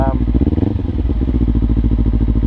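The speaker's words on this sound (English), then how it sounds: "If you let go of the clutch slowly, and when you get to a friction zone at the end, you're gonna see the bike moving forward." A motorcycle idles in first gear as the clutch is eased out, its engine a steady, close low thrum of rapid regular pulses, with a brief clattery rise near the start and a voice talking over it.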